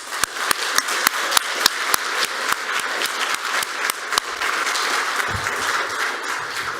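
Audience applause at a spring senior graphic design exhibition at York College, a dense wash of clapping with a few sharp, separate claps standing out, holding steady and thinning slightly near the end.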